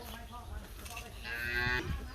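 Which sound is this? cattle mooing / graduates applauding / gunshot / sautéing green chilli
cattle mooing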